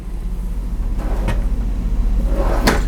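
A pull-out kitchen drawer in a 2015 London Aire 4553 RV slides out on its runners with a soft rumble, ending in a sharp knock as it stops, over a steady low background hum.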